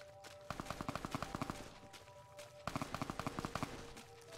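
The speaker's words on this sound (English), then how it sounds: "Nope, actually, that's automatic machine gun fire." Automatic machine gun fire in Fallout: New Vegas, two rapid bursts of evenly spaced shots, moderately loud, over steady game ambience with no talking.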